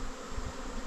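Bees buzzing close by in a steady, droning hum that holds for under a second with no talk over it.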